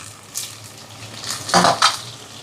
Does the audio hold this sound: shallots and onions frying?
yes